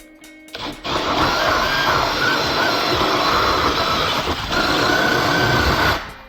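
A power drill with a hole saw spins up and grinds steadily through drywall for several seconds, loud and close, then winds down.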